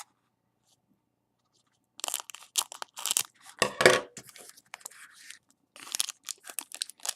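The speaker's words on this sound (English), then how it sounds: "Let's use the scissors and have a very civilized opening." Scissors snip and slice through the foil wrappers of Khans of Tarkir booster packs, one of three being opened, giving close, crisp crinkling and tearing bursts after a couple of seconds of silence.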